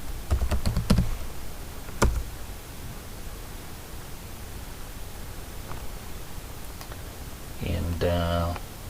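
Keystrokes on a computer keyboard come as switch configuration commands are typed: a quick burst of clicks early on, isolated taps later, and a brief voice near the end over faint background hiss.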